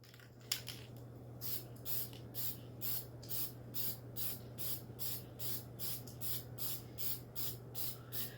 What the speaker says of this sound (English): You're going to do back and forth spurts of sprays, okay? Don't just let it all out. So you want to go back and forth.